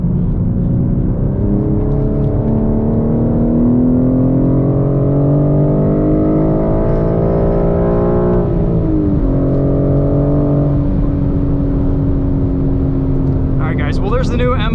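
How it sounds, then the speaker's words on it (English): A 2021 BMW M4 with a 6-speed manual gearbox being driven hard on a race track, its engine loud and droning, pitch climbing through the gears with a shift about midway, as a voice talks over it. "there's the new M4 on track"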